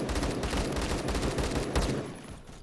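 Rapid bursts of AK12 rifle fire in the Roblox game Phantom Forces, loud close shots in quick repeated volleys with brief gaps, then tapering near the end.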